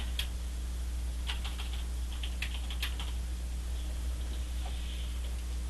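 Light, quick keystrokes tap on a computer keyboard while a search is typed, faint and close over a steady low electrical hum.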